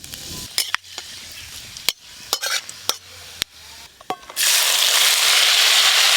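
Bay leaf and dried red chilli go into hot mustard oil for a tempering: first a run of sharp clicks and scrapes, then a sudden loud, steady sizzle that fills the last seconds, close and without speech.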